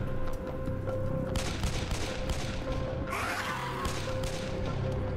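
Rapid gunfire from the video game Possessed rattles in a dense, continuous volley, loud and close, with crashing impacts layered throughout.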